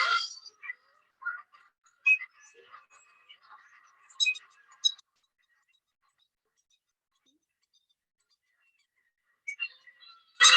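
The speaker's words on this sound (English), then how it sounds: "that's what the birds sound like on the islands I work on" Recorded seabird calls from restored islands play back faintly through a speaker, in scattered short bursts of chirps and squawks separated by long stretches of near silence.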